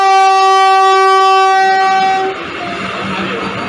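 A Vande Bharat Express train in Kerala sounds a loud, sustained multi-tone horn for about two seconds, then fades into rumbling railcar noise and faint rolling clatter.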